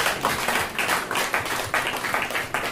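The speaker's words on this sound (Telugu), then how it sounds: "గట్టిగా చప్పట్లు కొట్టుకుంటూ" A church congregation claps loudly together in a quick, steady rhythm of sharp, close claps that carries on without pause through the short stretch.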